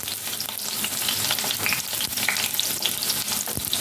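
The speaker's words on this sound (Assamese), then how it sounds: "তেলখিনি মই অকণমান ভাজি ল'ম, একেবাৰে ৰঙা নকৰোঁ" Small onions fry in hot oil for Rajasthani pyaz ki sabzi, giving an even, dense sizzle with faint crackles and light stirring, close up and unbroken by speech.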